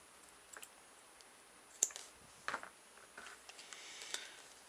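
Crochet yarn cut with scissors at close range, a few faint, sharp snips and clicks spread across a quiet background with no talking.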